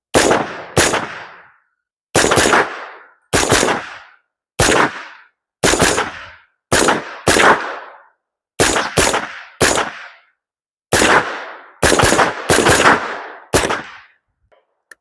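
A repaired AR-style rifle chambered in 300 Blackout, fitted with an H2 buffer, fires about twenty loud, sharp shots outdoors in quick pairs and short bursts with brief pauses between, each crack followed by a short echoing tail.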